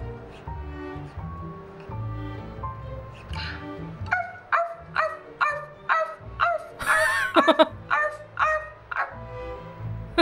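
A woman in the Telling Lies video game barks like a dog on command, a voice imitating yips and bow-wows in a quick run of short, sharp barks over a low musical backdrop.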